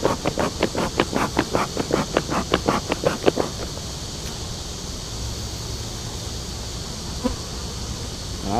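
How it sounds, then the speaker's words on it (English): Honeybees swarm around an opened, crowded backyard hive, a steady buzzing drone sitting beneath a rapid series of close rustling, flapping bursts through the first few seconds, then continuing alone. "They are pretty full of bees."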